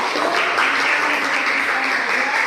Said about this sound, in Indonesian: Sekarang ada proses tepuk tangan untuk Angger dan Dinar.